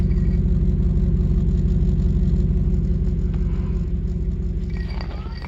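A Chevy Silverado 1500 idles with its exhaust running before a muffler is fitted, a loud, close, steady burbling rumble with rapid even pulses that fades slightly toward the end, with faint talk in the background.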